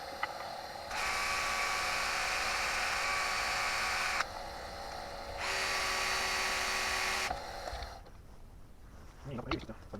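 Wood lathe spinning while the end of a turned wooden capsule is sanded, a high whirring hum that rises and falls in two long passes, then stops, leaving faint handling clicks at the end.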